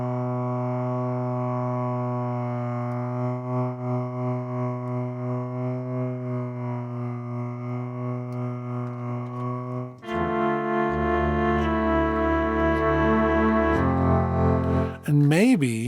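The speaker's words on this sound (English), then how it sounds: "Let's add a little bit of vibrato." A sustained synthesized tone from Logic Pro's Quick Sampler wavers in pitch with a steady vibrato, then shifts to a richer, deeper layered sound before a quick pitch sweep at the end.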